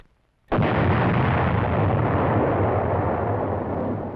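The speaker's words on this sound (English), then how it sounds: "Dynamite." A dynamite blast set off while bulldozing a road through hills during construction bursts in suddenly and loudly, then holds as a dense, sustained roar and rumble of debris for several seconds, with no voices.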